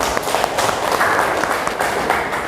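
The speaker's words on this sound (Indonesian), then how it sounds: "Oke, tepuk tangan." Students clap together in a classroom, a brisk, dense patter of many hands lasting a couple of seconds, fairly close and steady, with faint voices mixed in.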